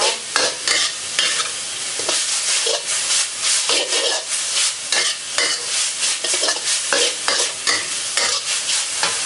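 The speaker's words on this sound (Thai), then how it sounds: "เนื้อนี่ไม่ต้องผัดนานนะคะ ผัดสุกเกินไปนะคะเนื้อจะเหนียวไม่อร่อยนะคะ" Beef is stir-fried in a hot pan for spicy dry basil stir-fry, giving a close, loud sizzle broken by rhythmic scraping strokes of the spatula, with no talk.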